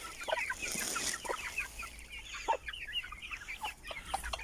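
Chickens cluck and murmur close by with high, thin peeping from chicks scattered throughout, a busy coop chorus with no talking.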